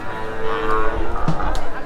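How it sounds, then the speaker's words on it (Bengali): A Jersey cross dairy cow at a busy cattle market, with low lowing and livestock sounds close by amid steady crowd noise and background voices. "আমরা এখানে সুন্দর একটা গাভী গরু দেখতেছি, ক্রস জাতের"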